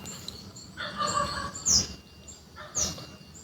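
A comedian imitates a duck's quack on stage, producing two short nasal squawks in succession, fairly loud against a murmuring room.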